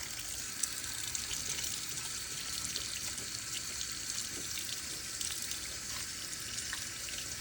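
Cold water running steadily from a kitchen tap into a sink while salt mackerel is prepared, a continuous close hiss that stays even and unbroken throughout.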